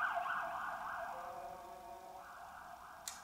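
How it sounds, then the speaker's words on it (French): Emergency vehicle sirens wail on a Brussels street, a steady two-tone siren sounding at moderate distance and slowly fading, with no voices. "Mais voilà, les fameuses sirènes."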